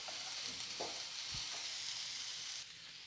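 Onions and green chillies frying in oil in a pan for poori masala, a steady close hiss of sizzling with a few soft stirring knocks, no voices.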